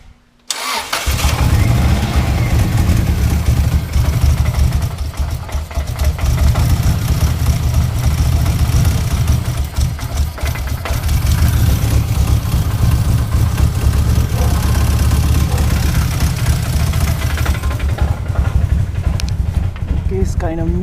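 Engine of a 2002 Subaru WRX (GC8) after an ignition coil conversion, running without its intercooler, cranks and catches, then idles loud and close with a steady, slightly uneven misfiring throb for the rest of the clip; a voice speaks briefly.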